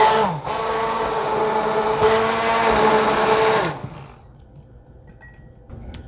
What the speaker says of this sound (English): Then you just blend it quickly.